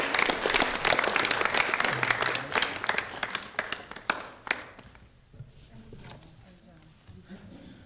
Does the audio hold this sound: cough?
no